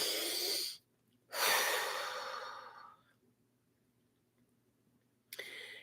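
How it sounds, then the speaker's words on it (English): A slow, deep breath drawn in and let out close to the microphone: a short inhale, a longer airy exhale that fades, then a quick breath at the end. "So let's take a deep breath."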